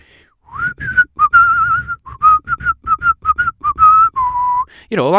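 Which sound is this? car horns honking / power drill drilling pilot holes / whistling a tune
whistling a tune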